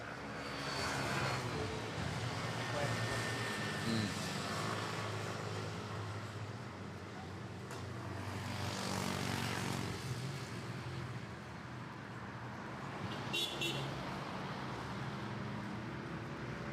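An ATR turboprop airliner taxis at Manila Airport toward runway 06, its steady engine drone and propeller hum holding at a fairly constant level, moderately close amid background airport noise.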